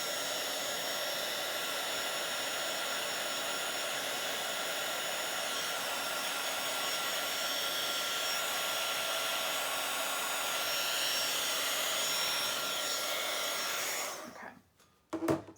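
A handheld dryer blows steadily and loudly over a Bible journal page, a constant whooshing hum that carries on for about fourteen seconds before it clicks off and leaves near silence.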